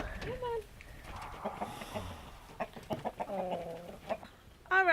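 Backyard laying hens cluck and murmur nearby in short broken calls, with a sharper squawk near the end and faint human voices mixed in.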